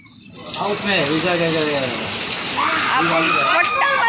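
Steady rain from the season's first downpour hisses as a dense, even background while several people talk loudly over it nearby.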